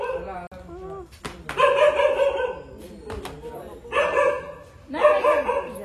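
A dog barks and yips several times close by in a home, in short bursts mixed with people talking and laughing nearby.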